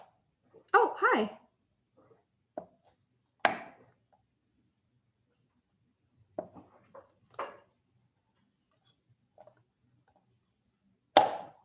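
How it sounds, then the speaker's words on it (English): A dog barks several times indoors in a kitchen, short separate woofs and yelps spaced across the stretch with quiet gaps between them, close by and moderately loud. "Oh, hi."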